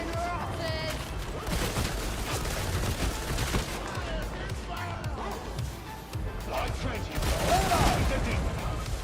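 Rapid bursts of gunfire from a caseless gun in the video game Darktide, dense and continuous across the clip, mixed with other game effects and booms.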